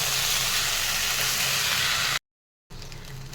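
Rice, potatoes and chicken sautéed in a pan, a steady close sizzle and hiss that cuts out abruptly for a moment, then resumes.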